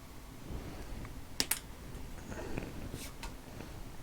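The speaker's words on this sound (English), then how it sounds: "So I'm just going to trim off this little piece here." Cutters snip a wire end on a reclining power chair power supply, two sharp close clicks in quick succession over faint background noise, followed by softer handling sounds.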